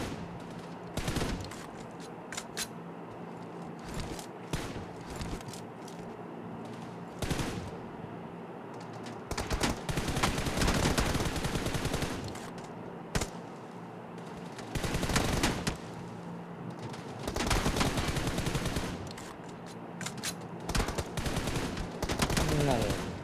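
Rapid automatic gunfire from a shooting video game crackles loudly in repeated long bursts separated by short pauses, with no talking heard.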